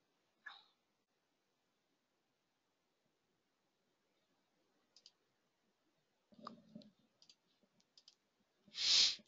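Computer mouse clicked during stock management software work: a few faint, isolated clicks spread over several seconds, with a small cluster near the end and a soft noise burst at the close, otherwise near silence.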